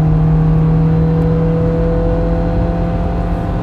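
A 2010 Ford Focus accelerating from the cabin, its engine a steady loud hum and drone with a rising tonal whine, heard continuously without speech.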